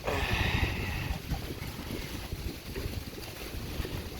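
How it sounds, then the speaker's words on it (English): Wind gusting outdoors, a steady rushing roar with buffeting on the microphone, fairly close and unbroken for the whole span, with no voices. "it is windy today."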